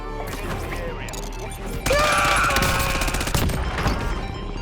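Gunfire in the video game Warzone, dense bursts of automatic shots and impacts rattling through the whole stretch, loud and close, with a player talking over the action.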